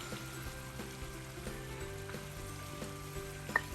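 Rohu fish frying in a pan with whole green chillies, a low, soft sizzle running steadily beneath a faint hum, with one small clink of a utensil near the end.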